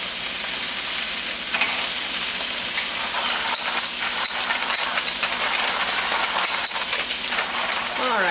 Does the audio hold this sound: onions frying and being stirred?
yes